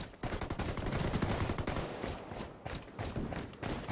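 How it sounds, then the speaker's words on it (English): Gunfight in the Ghost War tactical shooter game, a dense, continuous barrage of rapid gunshots and bursts of automatic fire mixed with thuds, loud and busy throughout with no speech. "Sounds like there's a gunfight"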